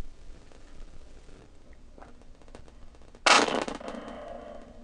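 A single sharp shotgun blast fires at a clay target thrown as a chandelle and echoes briefly outdoors after a few quiet clicks and rustles.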